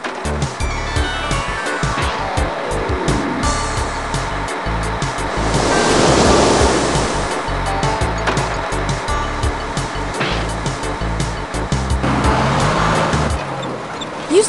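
Water rushes into a dug ditch in the Matchbox Caterpillar Big Dirt Movers video game, a loud continuous surging wash that swells and ebbs over a busy background of game sounds.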